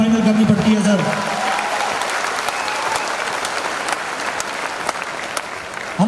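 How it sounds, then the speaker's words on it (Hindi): Loud, sustained applause from an audience at an RCM business gathering, dense clapping filling the whole stretch with a brief voice at the start. "ताली जोरदार वाली बजा लीजिए"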